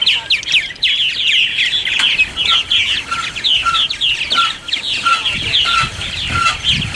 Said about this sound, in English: we'll feed some martins, and you'll see how readily they come